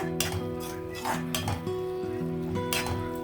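A spoon clinks and scrapes inside a pot while cashew tomato curry with masala is mixed, giving several distinct metallic knocks over a steady hum.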